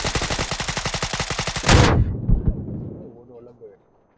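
Rapid, rhythmic gunfire gives way to a loud, close explosion with a rumbling tail that fades out, typical of a video game battle in PUBG: Battlegrounds.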